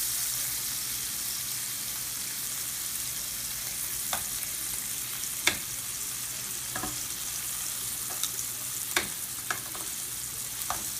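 Shrimp frying in a pan for garlic lemon shrimp linguine, a steady close sizzle that runs the whole time, broken by a few faint clicks and taps.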